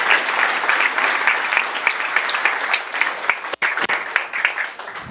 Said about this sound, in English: round of applause for the one and only John Stossel